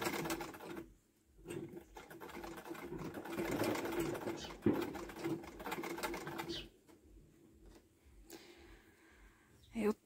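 Sewing machine running on a denim rug made from old jeans, a rapid mechanical whirring and clatter in bursts that stop and restart, with someone speaking at moments between the runs.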